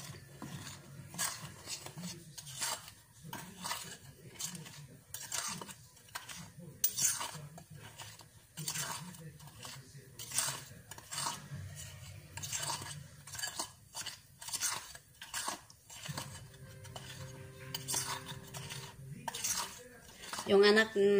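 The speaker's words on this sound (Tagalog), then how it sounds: "Halo ko dito sa dry na ingredients." A metal spoon stirs sugar into the dry ingredients for puto in a bowl, giving repeated quiet scraping and clinking strokes in an irregular rhythm, close up and faint.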